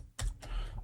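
A computer keyboard is typed on to enter a prompt: a couple of crisp, close key clicks in quick succession, with no one talking.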